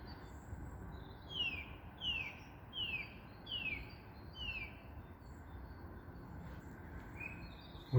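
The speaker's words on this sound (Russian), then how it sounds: "Черный дрозд. Песня черного дрозда." A common blackbird sings in spring countryside, a faint, distant series of five similar whistled phrases at a steady pace, then one more note, over soft background hiss.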